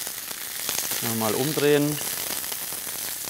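Farmhouse or wholegrain bread toasting in a frying pan, a steady close sizzle and crackle under a brief spoken remark.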